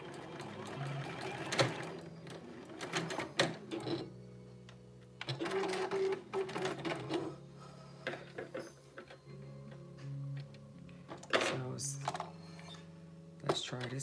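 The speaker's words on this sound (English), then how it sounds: "Let me try to sew on a little scrap piece." A sewing machine stitches a scrap piece of fabric in short running bursts with pauses between, close and fairly quiet, with a person talking at times.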